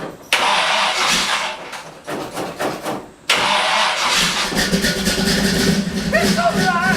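A 1975 Pontiac Firebird Trans Am cold starts: the starter cranks in choppy bursts, then the engine catches after about three seconds and settles into a loud, rough, rumbling idle with a voice briefly audible.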